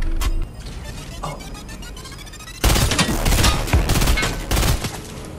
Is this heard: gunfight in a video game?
yes